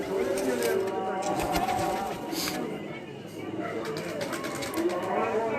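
Pigeons coo softly and steadily at a pigeon-flying competition, with voices chattering throughout and occasional wing flutters in the outdoor scene.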